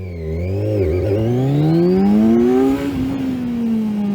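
A Kawasaki Z1000SX motorcycle accelerates hard, engine pitch rising and wavering as the traction control cuts in, then settling into a steady, loud, close drone.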